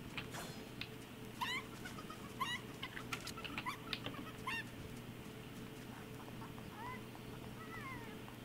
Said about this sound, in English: Not me running a golden chicken across the road.